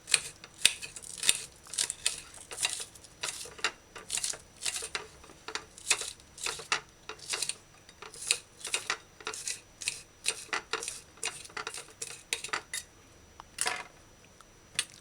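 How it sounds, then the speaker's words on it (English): Rapid, steady chopping taps of a knife dicing scallions on a board, close and crisp, continuing in a quick rhythm with brief pauses. "dice scallion fine."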